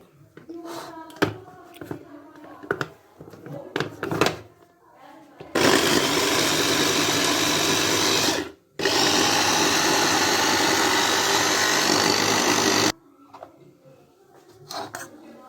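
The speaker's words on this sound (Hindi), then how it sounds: "लेकिन मैं इसको ऐसे ब्लेंड करूँगी" A kitchen blender whirring loudly through a walnut chutney in two long continuous runs separated by a brief pause, with someone talking and a few clinks before and after.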